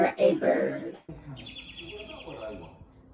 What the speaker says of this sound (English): When you're fighting, but then you hear a bird.